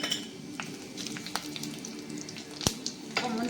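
Cumin seeds frying in hot oil in a pan for sambar rice, a continuous close crackling sizzle with scattered sharp pops and a few clinks.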